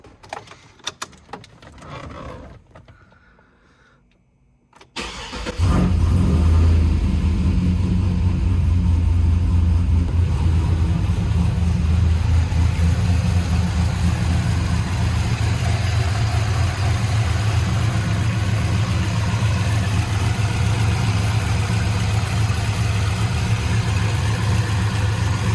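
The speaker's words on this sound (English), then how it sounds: "Let's fire her up. Some fresh oil in her now." A Chevrolet Trailblazer SS engine, fresh oil just put in, cranks briefly after a quiet moment, then catches and settles into a loud, steady, close idle that runs alone for about twenty seconds.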